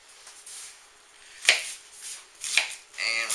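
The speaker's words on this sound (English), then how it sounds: "And we're just going to chop this up." A knife chops through a quarter of a large onion on a cutting board, giving a few sharp, separate chops spaced apart against a quiet background.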